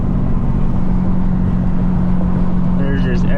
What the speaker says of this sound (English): My radio don't work, so I get to listen to this 3-liter inline 6 sing